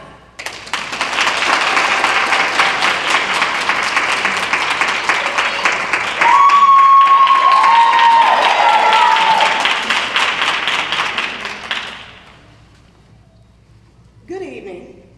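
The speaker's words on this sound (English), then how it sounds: "Give everyone another round of applause." Loud, sustained audience applause at a full-figured women's nationals pageant, dense clapping and cheering that holds for about twelve seconds before dropping off, with a brief voice afterward.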